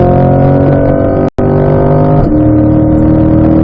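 A race car engine pulls hard in fifth gear during a track driving session, a loud, steady, high-pitched drone broken by a brief dropout and then climbing on, with no talk over it.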